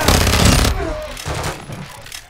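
A loud burst of rapid automatic gunfire in the video game Call of Duty: Modern Warfare II, then scattered shots and bangs trailing off, with an electronic game-like sheen.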